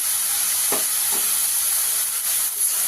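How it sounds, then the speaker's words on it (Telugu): Onions frying in a pan for a Telangana-style egg curry, giving a steady close sizzle and hiss, with a couple of faint stirring scrapes. "మన కలర్ మారేంత వరకు మనం దీన్ని ఫ్రై చేస్తున్నాం"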